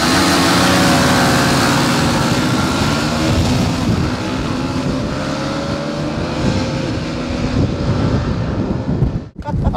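Several 125cc sport motorbikes, an Aprilia RS4 125, Honda CBR125R, Rieju RS3 125 and Yamaha YZF-R125, race flat out, their engines droning loudly and continuously under heavy wind buffeting before a brief dip at the end.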